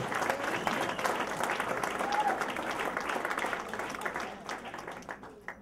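Comedy club audience at the Tempe Improv applauding in a sustained burst of clapping and cheering that fades toward the end, with no talk over it.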